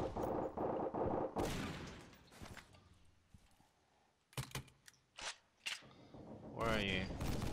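Turret gunfire in an action video game, with sharp bursts of shots spaced irregularly through a quieter stretch, bracketed by voices talking before and after the firing.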